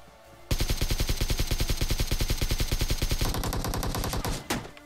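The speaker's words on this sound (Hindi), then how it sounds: "ये देखो M24 का साउंड।" Rapid automatic gunfire from a close PUBG Mobile weapon rattles in a steady even stream of about a dozen shots per second, loud and sustained, shifting tone near the end before stopping; an M24 sniper rifle is in use in the match.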